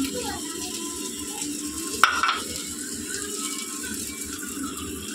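Boiled yardlong beans fry in a pan with fried onion and chili, giving a steady close sizzle with stirring rattles and a sharp clink of a utensil against the pan midway.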